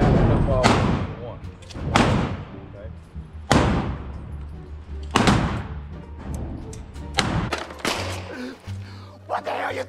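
Heavy gunshots boom at a steady pace, roughly five or six loud thumping reports, each trailing a short rumbling decay, with people talking in between.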